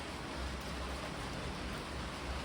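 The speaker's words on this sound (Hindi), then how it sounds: "बारिश हो रही है तो शोर बचेगा थोड़ा सा।" Steady rain falling, a dense even hiss with low rumble filling the whole stretch without pause, moderately loud and close, with no voices.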